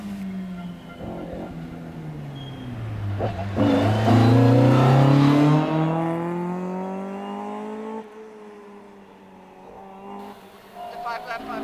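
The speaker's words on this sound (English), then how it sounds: "The Ford Escort Twin Cam of Championship leaders Ernie and Karen Graham was once again the ca" A Ford Escort Twin Cam rally car at a European historic rally in Weiz revs hard, its engine note climbing to a loud peak and then falling as the car passes.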